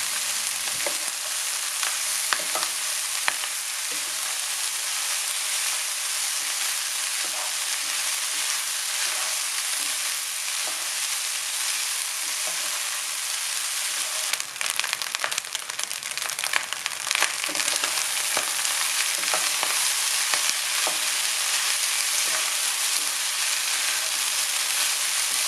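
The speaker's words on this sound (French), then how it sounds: "c'est l'heure de verser du riz et puis les mélanger régulièrement pendant 3 minutes" Rice stir-fried and tossed in a hot pan for egg fried rice with soy sauce, a steady close sizzle with scraping and stirring clatter, busier in the middle, no talk.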